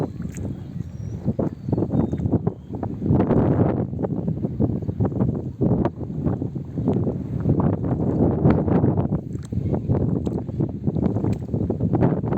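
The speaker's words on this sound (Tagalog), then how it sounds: "Ganda ng hangin, oh." Strong gusty wind buffets the microphone in rough, uneven bursts, loud and close throughout.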